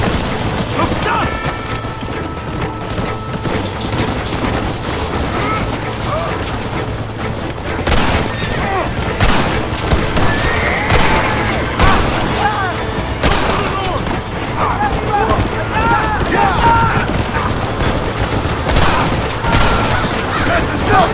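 Gunfire from Red Dead Redemption rattles in dense, overlapping shots and mechanical clicks over a loud, busy game soundscape, with voices speaking at times.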